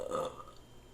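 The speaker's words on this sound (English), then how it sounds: "Burp number 8." A man lets out a single short, fairly soft burp, heard on its own with no talking over it.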